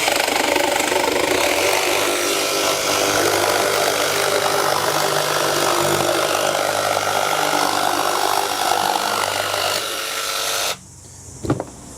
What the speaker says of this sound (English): That was actually the nicest auto start I've felt on a jigsaw, that's for sure.